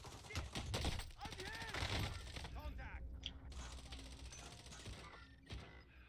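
Gunshots crack in a multiplayer shooter video game, a few sharp reports near the start and more spread across the clip amid clinking and mechanical sounds, with voices talking underneath.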